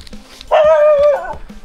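A single close, sharp dog vocalisation rings out, a loud drawn-out yelp-like bark lasting about half a second amid quiet surroundings.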